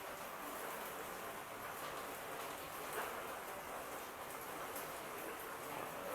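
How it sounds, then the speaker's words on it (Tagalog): Steady rain falls continuously, a dense, even hiss of drops on surfaces with no pauses, moderately faint and alone. "Panahon ng ulan"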